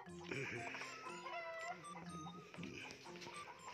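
A neighbor's chickens clucking and squawking nearby, with a few rising cackles, mixed with faint voices talking in the background.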